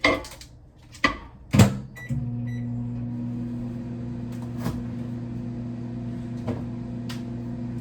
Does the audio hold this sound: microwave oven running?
yes